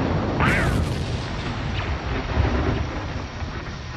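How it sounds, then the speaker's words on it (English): Explosion of a missile striking a TIE fighter in a Star Wars audio drama: a loud rumbling blast near the start with a sweeping whoosh, settling into sustained low roaring under the scene. "Missiles on target. Direct hit."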